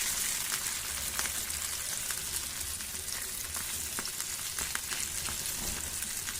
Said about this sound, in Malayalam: ഇത് നമ്മൾ വെളിച്ചെണ്ണയിലാണല്ലോ മീൻ വറുക്കണത്.